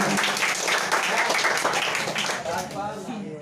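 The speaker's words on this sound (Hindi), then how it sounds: "तो कक्षा 8 के बच्चों के लिए एक बार फिर से जोरदार तालियां।" Class 8 village children at a general-knowledge competition in Prayagraj, Uttar Pradesh, applaud together in a loud, steady burst of clapping that fills the room, with voices rising over it toward the end.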